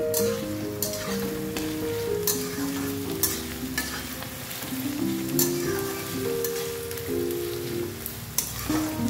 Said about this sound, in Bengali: তো পেঁয়াজটা একটু ভাজতে লাগুক।